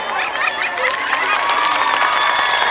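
Audience applause mixed with some cheering and children's shouts at a fire station open day in Kutná Hora, honoring firefighters during a demonstration; a steady, dense wash of clapping throughout, fairly loud and close.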